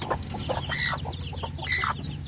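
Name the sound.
mother hen clucking over hatched Muscovy ducklings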